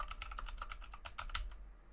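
Quick keystrokes on a computer keyboard, a steady run of close, crisp clicks for under two seconds that stops abruptly near the end, with no talking.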